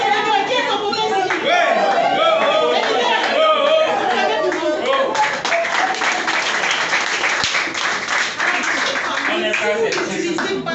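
A live audience applauds at a French product demonstration event, loud, dense clapping that continues steadily throughout, with crowd chatter and voices mixed in.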